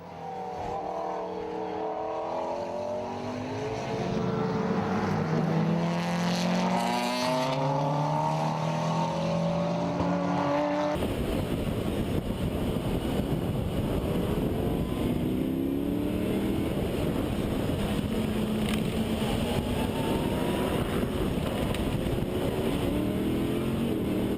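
Race cars roll in formation at the start of a 24-hour race at Circuit de Catalunya in Barcelona, a dense layered engine roar with revving that persists throughout, with no talk.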